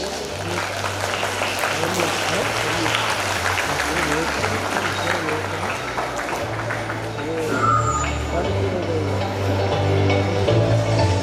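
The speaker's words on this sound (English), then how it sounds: "Let's welcome them with a warm applause as they take the stage." A hall full of school audience members applauds at an auditorium inauguration as performers take the stage, a dense, steady wash of clapping sustained at full loudness throughout, with a low constant hum underneath.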